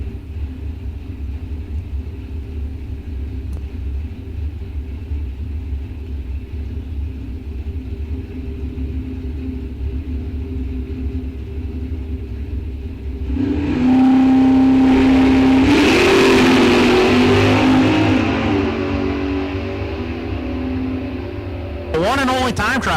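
At a Rock Falls Raceway bracket drag race, a Mopar and a Mustang roar off the line, a loud engine rumble rising over steady low background noise, with talk mixed in.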